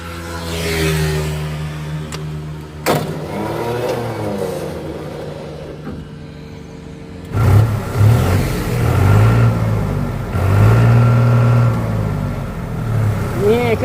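A warmed-up New Holland TT3.50 Plus tractor engine idles with a throbbing mid-range hum, then revs up more loudly partway through and keeps pulsing, while someone talks over it.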